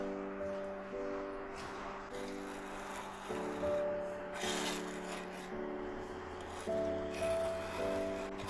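Brush strokes spreading gesso across a canvas in preparation for oil painting, a steady rubbing, rasping texture repeating in short passes over a low background tone.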